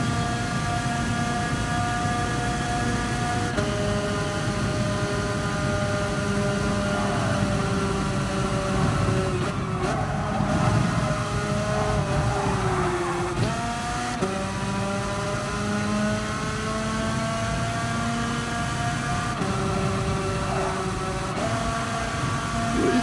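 A go-kart engine pushed hard on a lap, a steady loud whining drone with harmonic tones that rise and dip as revs change, continuous throughout with no talking.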